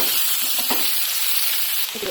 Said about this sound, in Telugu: బీరకాయ ఫ్రై కోసం తిరగమాటి గిన్నె వేసేసుకొని కొంచెం ముక్కల్లోకి ఎర్రగడ్డ వేసేసి